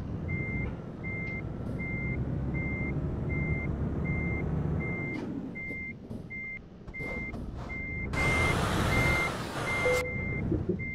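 A truck in Euro Truck Simulator 2 backs up to couple a trailer, its reversing alarm beeping steadily over a low engine rumble, then a loud hiss of air near the end.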